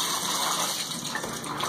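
Water from a hotel bathroom shower runs steadily as a broadband hiss for nearly two seconds, close and fairly loud, with no voices.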